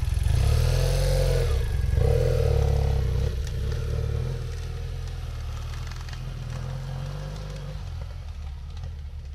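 A motorcycle engine on a trail camping trip through Sweden rumbles loudly as it revs and rides off, then settles into a steadier, quieter drone as it pulls away, with no talking.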